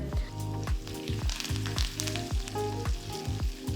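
A tempering of cashews, ginger and curry leaves sizzles steadily for tomato pongal, the hiss running under a louder rhythmic tonal backing of music.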